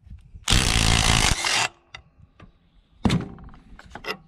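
A 3/4 inch socket on a power tool spins off the nut holding a riding lawn mower steering wheel, in one loud burst of about a second, followed by a quieter rattle and then clanks and clicks.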